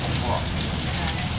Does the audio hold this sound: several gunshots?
no